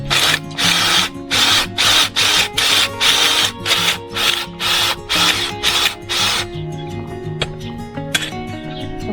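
A cordless drill drilling into the ground while filling raised garden beds whirs in about ten short, loud, regular bursts, each a second or less, then stops, leaving only faint clicks and rustling.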